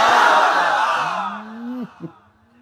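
A crowd roars back in unison after a takbir call at a religious gathering, a loud broad shout that fades over about two seconds, followed by a single chanting voice.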